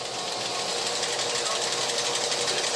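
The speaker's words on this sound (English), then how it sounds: "After a twirl in this high-powered polisher, they are still not smooth enough." A high-powered polisher buffs silicon wafers in a chip factory, giving off a dense, steady mechanical whir with a fast flutter that holds without a break.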